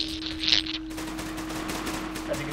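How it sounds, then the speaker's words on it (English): Machine gun fire rattles in a Men of War battle, a steady rapid stream of distant-sounding shots under a constant low hum with a brief bright burst near the start. "James is being pinned down by machine gun fire"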